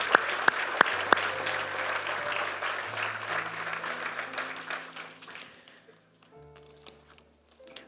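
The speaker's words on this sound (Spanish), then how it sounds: "Dale un aplauso fuerte al Señor" A church congregation gives loud, dense applause that fades over several seconds, with sustained organ or keyboard chords underneath and a few sharp claps near the start.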